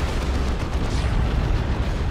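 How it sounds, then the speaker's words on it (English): A Demolisher Cannon fires in a Dawn of War 2: Retribution battle, giving a sustained, loud, rumbling blast of artillery noise that fills the whole stretch without a break. "Boom. Demolisher Cannon."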